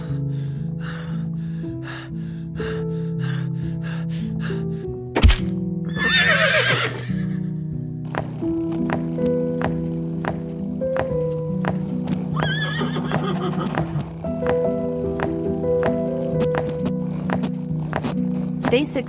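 Horses hauling a load up a slope neigh and whinny loudly over steady clip-clopping hooves, with snorts and gasping breaths mixed in and a sharp knock partway through.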